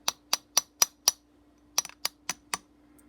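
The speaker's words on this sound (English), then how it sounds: "And I'll take my hammer" A hammer taps the trigger pin into a third-generation Smith & Wesson pistol: sharp, close metallic strikes, five evenly spaced, a short pause, then a second run of quicker taps.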